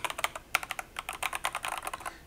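Close, crisp typing on a mechanical keyboard with Gateron yellow switches and foam, a quick run of clacky keystrokes in an uneven rhythm with no voices.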